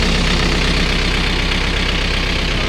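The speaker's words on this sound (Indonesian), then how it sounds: "setelah ACC sudah, baru kita starter." An agricultural machine's engine idles with a steady, loud low-pitched chugging and even rhythmic knock, running close by without pause or voices.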